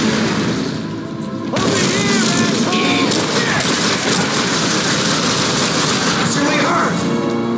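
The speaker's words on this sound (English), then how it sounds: "How many times do I have to shoot her before she surrenders?" Dense automatic gunfire and explosions from a Far Cry 5 firefight, loud and continuous throughout, with bursts crackling over booms and shouted voices talking over the battle.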